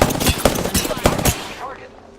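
Rapid bursts of close video game gunfire crack out in a quick, loud rhythm for about a second and a half, then fade into a fading tail.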